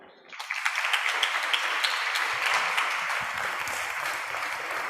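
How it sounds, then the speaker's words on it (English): An audience at a talk on AI regulation at the Centro Studi Americani breaks into applause, which starts abruptly and holds as a full, dense clapping roar for several seconds. "So give a round of applause."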